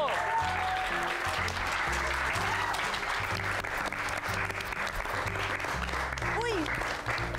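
A crowd applauds the quiz bee champion high school at an awards event, steady clapping that runs the whole length under music and people talking.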